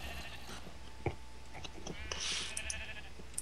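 Sheep bleat in Minecraft with the Feed The Beast pack, a few soft, wavering bleats set against a quiet background with faint clicks and game noise.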